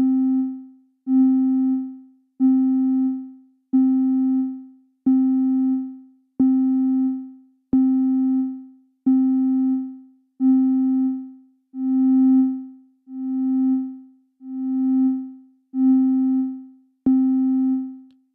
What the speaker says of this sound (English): as I drag the slider down, the sound will start more immediately and not have that slow fade in that we're hearing